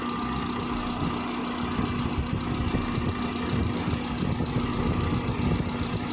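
A Daihatsu Taruna EFI engine idles steadily while being tuned, a close, even mechanical drone with a constant hum and faint regular ticking throughout.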